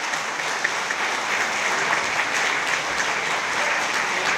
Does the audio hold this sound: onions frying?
no